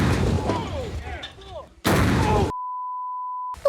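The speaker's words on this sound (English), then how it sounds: "The 18-year-old tops off his special day with a devastatingly powerful anti-tank gun." A powerful anti-tank gun fires with one loud, broadband blast right after talk and whistling sounds, followed by a sudden cutout and a steady beep tone.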